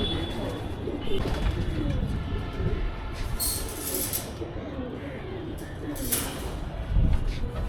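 Homer pigeons cooing on a house rooftop, soft throaty calls over a loud, steady background rumble, with a few brief higher bursts of noise.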